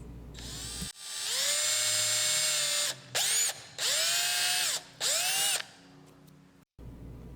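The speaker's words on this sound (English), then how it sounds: "I just went around all my pilot holes and opened them up to the size that I'm using" A power drill opens up pilot holes in aluminum aircraft door skin for rivets: a loud high whine running for about two seconds, then two shorter bursts of spinning, each ending abruptly.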